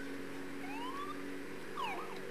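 A police car siren wails in GTA 5, two rising and falling sweeps at moderate distance over a steady engine-like drone, with no voices.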